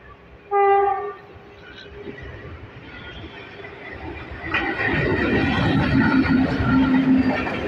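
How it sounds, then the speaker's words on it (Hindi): A Lalkuan–Howrah summer special passenger train with a new rake arrives at platform 2 of Bhojipura Junction. It opens with one loud, short horn blast, then a rumbling, rattling approach builds steadily louder and nearer, with no talking. "लाल कुआं हावड़ा स्पेशल भोजीपुरा जंक्शन के प्लेटफॉर्म नंबर 2 पर अराइव कर रही है।"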